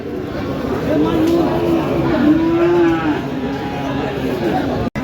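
Cattle moo nearby in a couple of drawn-out lowing calls over a busy background of murmuring voices at the Kaitla cattle market in Mirzapur, Tangail, Bangladesh.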